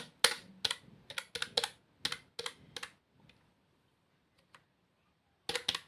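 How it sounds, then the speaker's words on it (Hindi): Keystrokes on a computer keyboard as a Windows disk partition command is typed: a quick run of sharp, close clicks over about three seconds, a pause with a couple of faint taps, then another short burst. "अब यहाँ पे मैं फिर से जब लिस्ट पार्टीशन टाइप करूंगा"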